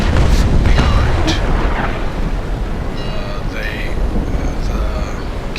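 Sailing ship cannons in the naval battle game Naval Action boom loudly, a heavy rumbling blast early that decays into a low roar, with lighter crackles and debris later.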